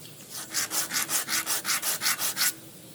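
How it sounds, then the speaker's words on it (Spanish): Rhythmic rasping strokes, about ten in a row, of a rasp or 60-grit sandpaper smoothing alabaster up close, evenly paced before stopping. "seguramente con escofina o con lija del 60"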